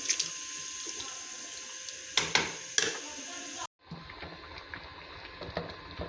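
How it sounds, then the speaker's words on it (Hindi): Rice is poured into a pot of boiling water, giving a few soft splashes and pattering bursts over a faint bubbling background, followed after a short gap by quieter watery sounds. "पानी को बॉयल आ चुका है, अब मैं इसमें ये राइस डाल दूँगी"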